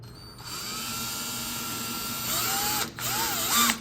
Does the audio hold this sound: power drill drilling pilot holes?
yes